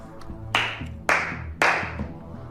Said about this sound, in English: Willa turns off the TV and begins sarcastically clapping